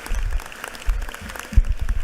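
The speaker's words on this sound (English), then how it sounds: "Let's give her a big round of applause." Applause in a state legislative chamber during a House session day, a short burst of clapping from the gathered members, moderately loud with a few sharper claps near the end.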